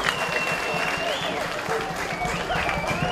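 Palau fans at the 2017 Micro Classic Baseball Championship applaud as their pitcher is replaced, a steady, moderately loud crowd clapping with a commentator talking over it.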